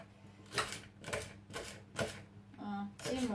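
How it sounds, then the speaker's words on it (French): A knife chopping a leek on a board while pepper soup is prepared, with five evenly spaced cutting thuds about half a second apart, close and soft, and faint voice sounds near the end. "Je vais maintenant découper le poireau aussi."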